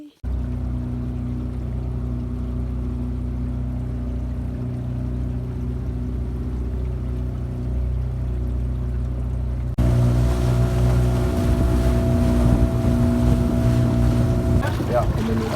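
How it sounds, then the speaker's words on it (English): Motorboat running across Obabika Lake, a steady droning engine hum with wind buffeting the microphone, growing louder and rougher partway through as the boat picks up speed. "we're going out in the boat"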